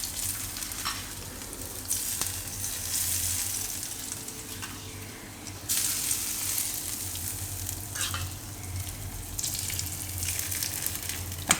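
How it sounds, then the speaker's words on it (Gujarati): Hot oil tempering with asafoetida, curry leaves and spices is poured over leftover-roti dhokla in a home kitchen, giving a continuous soft sizzle and crackle that swells in short bursts. "તો આ વઘાર છે તેલ આપણે આની ઉપર આપણે છાંટી દઉં આ રીતે બધામાં."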